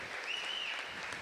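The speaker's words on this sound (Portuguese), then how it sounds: "Forte aplauso ao Senhor." Church congregation applauding during a celebration service, a short dense burst of steady clapping filling the room.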